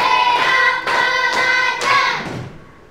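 A classroom of children claps hands in a counted pattern, four sharp group claps spaced about half a second apart, then the sound fading away, close and fairly loud with no talking.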